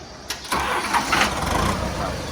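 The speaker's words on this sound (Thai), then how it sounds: "สตาร์ทเราลองขับดูครับ" A Kubota MU5501 tractor from 2018–2019 is started: a brief starter crank, then the diesel engine catches and settles into a steady, fairly loud idle close by.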